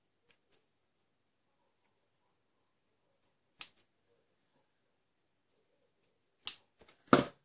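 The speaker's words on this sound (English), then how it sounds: "I'm going to trim that off" Card stock gets trimmed on a paper trimmer in a quiet room: a few faint ticks, then sharp crisp cutting bursts, with two louder slicing strokes near the end.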